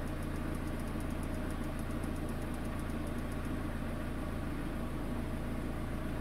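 A car engine with an AL4 automatic transmission in neutral idles steadily, a faint, even, continuous hum and rumble with no change in pitch and no talking.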